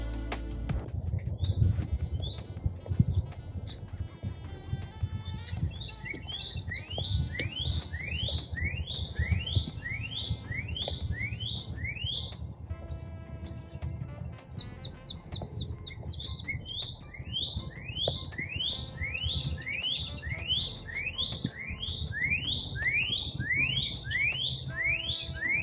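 Many birds singing in Blacklick Woods: bright, rapid chirping phrases repeat in bursts over a steady low background rumble, fairly near and clear, with no talking.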